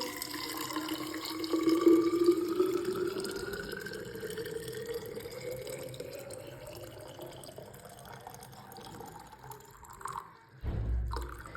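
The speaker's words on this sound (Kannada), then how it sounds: "ಇಲ್ಲಿ ಬಿಸಿನೀರು ಕಾಯಿಸಿಟ್ಟಿದ್ದಾರೆ ಬಾಟ್ಲಿಗೆ ತುಂಬ್ತೀನಿ" Hot water streams steadily into a bottle, the filling tone rising in pitch as it fills over about ten seconds, ending with a couple of louder knocks and handling sounds.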